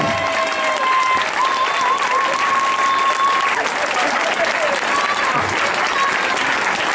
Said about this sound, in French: j'aimerais vous l'applaudir très fort